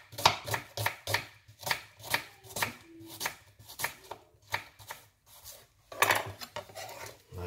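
A knife chops red onion for a salad on a board, a rapid, even series of sharp, close knocks with brief pauses between bursts and no talk.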